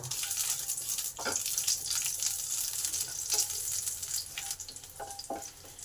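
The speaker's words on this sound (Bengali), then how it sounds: "কালো জিরে আর কাঁচা লঙ্কাটাকে একটু ভালো করে ভেজে নেব" Black cumin and green chillies fry in hot oil for a Bengali dish, giving a steady, close sizzling hiss with a few soft stirring scrapes and no talk.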